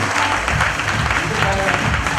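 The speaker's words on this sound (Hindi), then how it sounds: "एक बार जोरदार तालियां" A crowd at a Vedic gurukul gathering applauds loudly, dense continuous clapping filling the whole moment, with voices mixed into the ovation.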